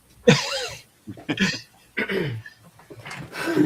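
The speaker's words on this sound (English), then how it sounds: "Heard him clear his throat." A person clears their throat up close several times, rough guttural bursts separated by short pauses.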